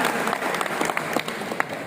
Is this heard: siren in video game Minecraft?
no